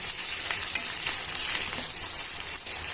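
Ginger garlic paste frying in a pan for a raw banana masala curry gives a steady, close, dense sizzle with faint stirring crackles throughout, and no voices.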